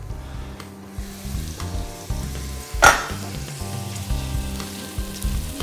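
Onion and celery sweating in a pan for a lamb navarin, a steady close sizzle with clinks of utensils and a brief louder scrape midway, no voices.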